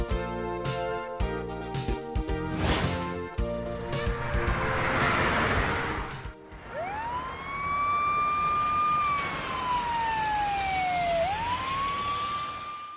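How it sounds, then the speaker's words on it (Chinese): In a children's cartoon, a fire engine siren wails with clear rising and falling sweeps, loud and alone, after a stretch of bright cartoon music. "消防车艾奇到达现场了哦。 消防车 Fire engine。"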